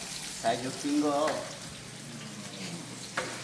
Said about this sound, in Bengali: ফ্রেঞ্চ ফ্রাই করতেছ তো এইটা এটা কোন স্টাইলের ফ্রেঞ্চ ফ্রাই